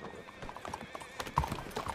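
A horse's hooves clip-clop in a quick, uneven rhythm at close range, fairly soft, with a voice talking faintly underneath.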